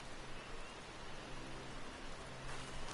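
Steady rain falls in the Final Fantasy 14 game world, a soft, even hiss of drops with no talk.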